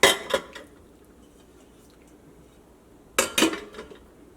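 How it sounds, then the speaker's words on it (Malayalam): Steel dishes being washed, two bursts of close metallic clanking and rattling separated by a quiet pause, with no talk. "പാത്രങ്ങളൊക്കെ ഒന്ന് കഴുകിയെടുക്കണം."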